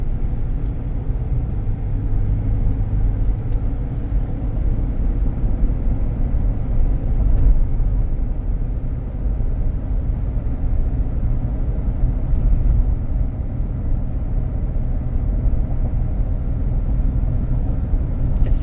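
A 2016 Ford Expedition EL on the move and accelerating, heard from inside as a steady low engine and road rumble that stays fairly even and subdued throughout, with no speech over it.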